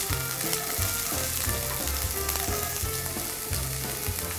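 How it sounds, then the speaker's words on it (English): Onions tossed into hot oil for a porcini tomato sauce sizzle and fry steadily and loudly throughout, with a dense continuous crackle and low bubbling, no voices over it. "Our oil's hot. We're gonna add our onions."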